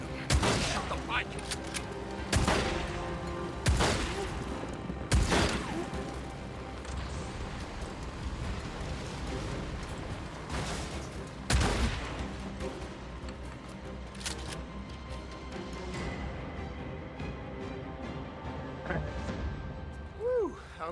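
Gunfire shooting at a motorbike in the video game Days Gone, with scattered loud shots and bursts spaced across a busy, rumbling action scene while voices talk.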